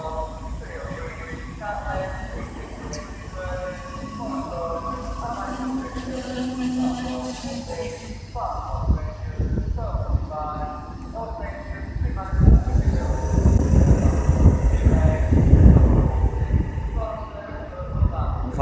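A passenger train pulls into a platform at Manchester Airport station. A low rumble of wheels and motors builds and grows louder as it draws close. Faint squeals and clatter join in, with a person talking over it early on.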